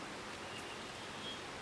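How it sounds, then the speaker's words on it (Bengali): Heavy rain falling in a park makes a dense, even hiss of steady downpour, moderately faint, with no other distinct sounds. "আমরা কিন্তু দাঁড়িয়ে দাঁড়িয়ে বৃষ্টি দেখছি, প্রচন্ড বৃষ্টি হচ্ছে।"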